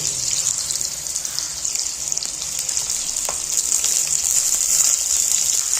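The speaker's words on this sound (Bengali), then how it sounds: "তো কড়াইতে তেল দিয়ে দিয়েছি, তেল গরম হয়ে গেছে। এর মধ্যে আমি আলুগুলো ছেড়ে দিলাম।" Potatoes sizzle steadily in hot oil in a wok, a dense close crackling hiss running through the whole stretch without pause.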